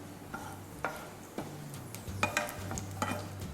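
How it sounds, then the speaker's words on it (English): Cumin seeds sizzle softly in hot ghee in a pan, with occasional scraping stirs and light clinks of a utensil against metal, close up and fairly quiet. "I'm going to splatter cumin seeds."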